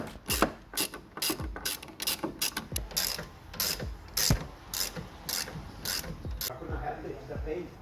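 A ratchet spins off a 17 mm nut on the rear shock absorber of a 2009 Chevrolet Matiz, giving a run of about a dozen sharp, clicking strokes in an uneven rhythm, close and fairly quiet with no talk over it.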